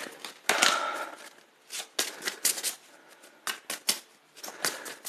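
Decks of cards being shuffled close up, a series of quick riffling bursts with short pauses between them, alone without talk.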